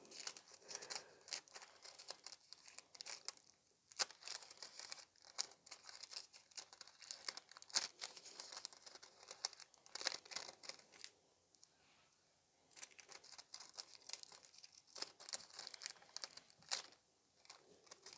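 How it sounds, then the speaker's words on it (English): Red nail art transfer foil is pressed and peeled off a nail tip, giving soft, close crinkling and small crackling taps in irregular bursts, quiet and without talk. "my tip is ready, so I can transfer the red transfer foil now"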